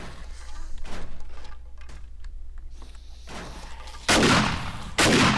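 Shots are fired at a zombie in the survival game 7 Days to Die, Darkness Falls mod. Faint clicks and light taps come first, then two loud, sharp blasts burst out close together near the end.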